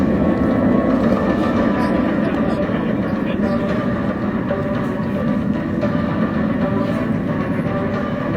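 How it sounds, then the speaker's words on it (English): B-52 bomber, nicknamed the Buff, roaring overhead at the Edwards AFB air show, trailing black smoke; a loud, steady broadband jet rumble fills the whole stretch without letup. "From the flight test station, ladies and gentlemen, the mighty Buff, the B-52."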